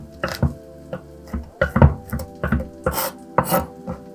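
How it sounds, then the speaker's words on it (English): Kitchen knife crushing and roughly chopping salmon-and-salad ingredients on a board: a run of about eight sharp, uneven chops and thuds, close and loud, with no talking. "Crush and chop."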